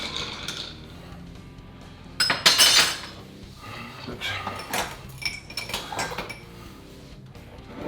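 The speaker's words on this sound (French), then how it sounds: "C'est des cocktails qui se font à la cuillère au verre." A bar spoon stirs a Negroni in a glass, with light, close clinks of metal against glass and ice coming in irregular bursts, loudest in one quick cluster partway through.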